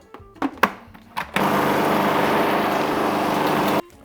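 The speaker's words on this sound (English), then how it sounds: "We're gonna blend some more." A blender whirs steadily while processing hummus with tahini made from sesame seeds, preceded by a few short clunks and taps, then a loud continuous motor drone for over two seconds before cutting off.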